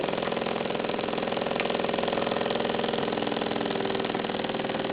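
A small cast Gem model steam engine with a one-piece pot-metal flywheel runs on steam, giving a fast, even chuffing beat that repeats steadily and sits close and moderately loud with no talking.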